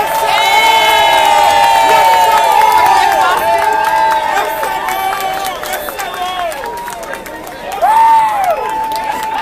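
A large crowd at a live political speech in Boston cheers and whistles loudly and continuously, with voices shouting over the noise; the roar eases slightly midway and swells again near the end.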